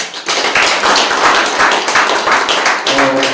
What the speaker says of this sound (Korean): 응원의 박수 한번 보내주시죠.